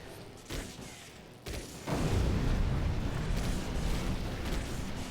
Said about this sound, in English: Boy, you think these explosions would be a little bit more systemic.